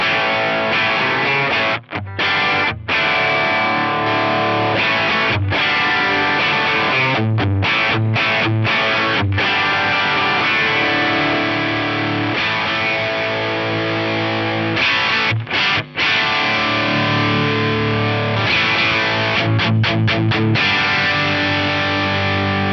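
Stratocaster electric guitar played through a Gallien-Krueger 250RL amplifier with the gain switch out and a chorus effect, loud distorted chords and riffs with brief stops, no talking.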